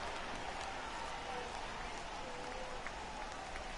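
Rain falling on a baseball field in the MLB The Show 18 video game, a steady dense hiss throughout, with broadcast commentary voices underneath.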